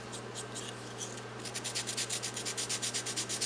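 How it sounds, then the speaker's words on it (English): Sandpaper rubs over the edges of a hand-carved piece in quick, even back-and-forth strokes. They are soft and close, with a brief irregular start before a steady rhythm of about a dozen strokes. "You can even use your sandpaper and maybe round over the edges a little bit."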